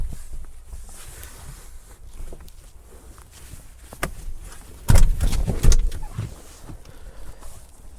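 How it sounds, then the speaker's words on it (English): Rear seats of a Honda HR-V e:HEV crossover fold down, with two close, solid thuds a moment apart against a quiet background of faint rustling. "if you fold down both of the rear seats"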